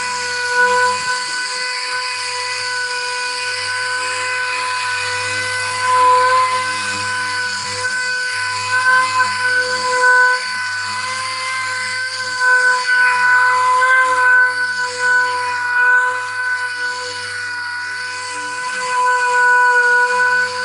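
A Harbor Freight pneumatic wet sanding tool runs steadily with a continuous high-pitched air hiss and whine, close and fairly loud, its tone wavering slightly throughout with no talking.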